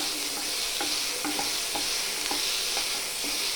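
Tomatoes fry in a pan for green peas curry with a continuous hissing sizzle, while a spoon stirs with regular scraping taps about every half second, close and steady throughout.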